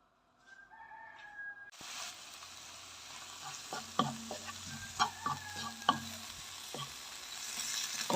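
A spiced food mixture stirred in a pan, with a spoon scraping and clicking at a steady rhythm over a soft sizzle, close up and fairly quiet, no talking.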